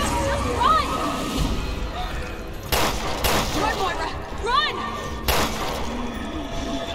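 Gunfire in the survival horror game Resident Evil Revelations 2: a few sharp shots ring out at intervals over game ambience, with splashing water and a person talking.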